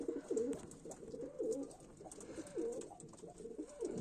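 Fighting pigeons coo repeatedly in soft, low, rolling calls, several birds overlapping at close range with faint background noise.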